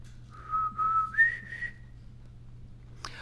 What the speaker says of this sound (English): Mom, you can whistle.